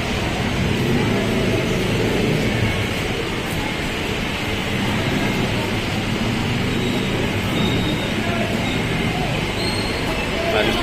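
A Manila LRT-1 light rail train rolls along with a steady, loud, continuous rumble heard from inside the car, unchanging for the whole stretch.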